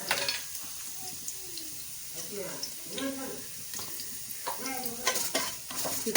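Whole spices such as cloves, cardamom and cumin fry in hot oil for a mutton pulao, giving a constant soft sizzle and occasional stirring scrapes, while a person talks over the cooking.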